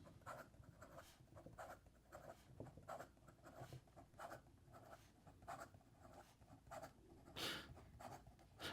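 A Danitrio Takumi fountain pen nib moves fast across paper, giving a quick run of scratchy strokes in a steady rhythm, close and soft, with no voices.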